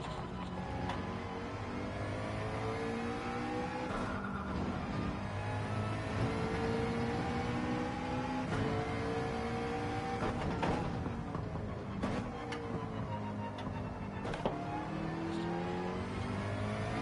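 Race car engine in a racing video game, a continuous loud drone rising and falling through repeated gear shifts and accelerations, with no voices.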